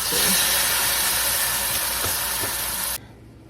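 Beef going into a pan of sautéed garlic and chopped onion for Filipino bistek, giving a loud, steady broadband sizzle that hisses continuously, then cuts off abruptly near the end.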